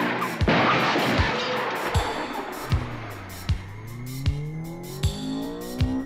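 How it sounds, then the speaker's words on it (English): A car races out of a car park with its tires squealing, sharp skids repeating at a fairly steady rhythm over a rushing engine. "I drove out of the car park as fast as I dared."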